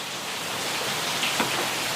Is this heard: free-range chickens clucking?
no